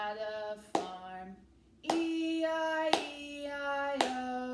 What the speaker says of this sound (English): For this song, we use our clapping hands.